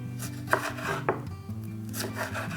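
A knife slices vegetables into thin strips on a cutting board, giving a few soft, spaced cutting strokes over a low, steady background hum.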